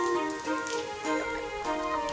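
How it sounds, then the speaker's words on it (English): Heavy cartoon rain patters steadily in a children's animated series, mixed with soft background music and moderately quiet overall. "Oh, the rain has become quite heavy."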